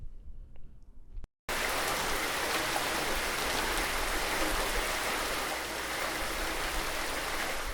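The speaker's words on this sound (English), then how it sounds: "it's raining" Steady rain pours down in Lisbon, a dense, close hiss of drops on surfaces that starts abruptly after a brief quiet moment and continues evenly with no voices.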